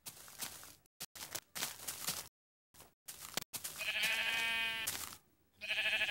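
Sheep in the Minecraft video game bleat in short, bright, wavering cries near the end, following clicky game sounds and footsteps, with no talking over them.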